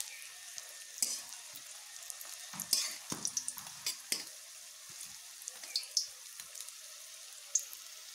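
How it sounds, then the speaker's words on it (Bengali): Green plantain slices frying in a pan at medium heat, a soft continuous sizzle with scattered crackles and pops, no voices. "এবার আমি এপিট ওপিট একটু লাল লাল করেই ভেজে নেব।"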